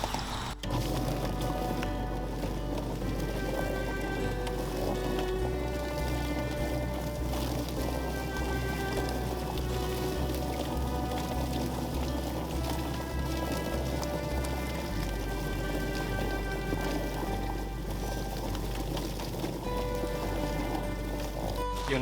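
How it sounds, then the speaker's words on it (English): Chicken plucker machine running steadily with water sprayed on the birds, a continuous low mechanical drone with splashing, wet slapping and hiss throughout, a motor tone shifting partway. "Just turn the Plucker on, and we're going to spray it with a little bit of water to help those feathers"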